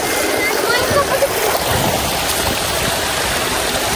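Loud, constant rush of falling water and a flowing stream, broadband and close, filling the whole stretch.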